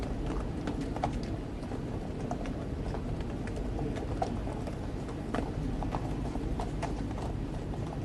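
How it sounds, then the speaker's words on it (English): Horses' hooves clip-clop steadily on a paved street in the 1997 funeral procession of Princess Diana, many overlapping hoofbeats in an even rhythm, moderately near over a broad outdoor crowd hush. "And then 2 pairs of horses behind them."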